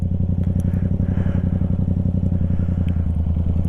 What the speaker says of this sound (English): So what we're going to do is start creeping just with the clutch.